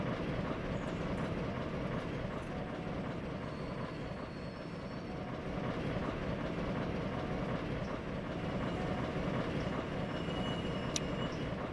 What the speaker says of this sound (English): we're about to find out if it really will handle the stupid heavy coal train here